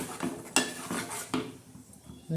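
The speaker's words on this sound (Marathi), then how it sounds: "मस्त असं चांगलं हलवून घेणार आहोत मसाला" Fish curry masala being stirred in a pan, a few close clinks and scrapes of a spoon against metal in quick succession, fairly quiet, with no voices.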